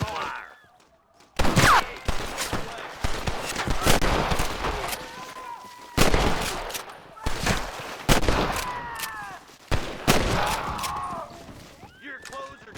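Gunfire from the Western video game Red Dead Redemption: loud, close volleys of shots in several bursts with ringing tails, mixed with game voices and shouting between the shots.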